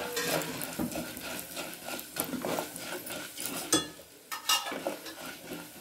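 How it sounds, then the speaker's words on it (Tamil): Chana dal, urad dal, cumin and chillies roasting in a pan, with repeated scraping stirs and soft clinks of a spoon against the pan over a faint, dry sizzle, at close range. "கடலைப்பருப்பு, உளுத்தம்பருப்பு, சீரகம் எல்லாத்தையும் போட்டு பொன் வறுவலாக"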